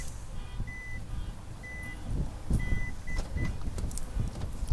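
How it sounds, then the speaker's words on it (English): A minivan's hands-free power door opens with a series of short electronic beeps over a low mechanical motor rumble, fairly close. "when I walk back up, it's just going to sense me and it's going to beep"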